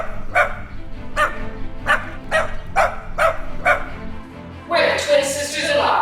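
A dog barking in a comedy skit, about seven sharp, evenly spaced barks close by, followed by a louder burst of yelping and whining at the end.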